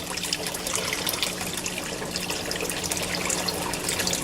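Water flow from an aquaponics siphon into a grow bed: a steady, close trickling and splashing stream with small bubbling spurts throughout.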